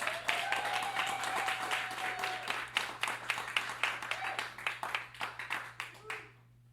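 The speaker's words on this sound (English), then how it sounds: "Let's please give her a warm round of applause." Audience applause at a literary reading, a dense burst of many hands clapping that thins into scattered individual claps before stopping, with a steady low hum underneath.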